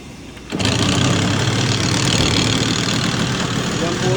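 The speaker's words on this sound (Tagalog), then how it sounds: "Yan, start natin, pakinggan natin yung dry clutch." A Yamaha TZR 250 3MA SP two-stroke motorcycle with a dry clutch starts with a sudden burst, then settles into a loud, steady, close idle that runs to the end.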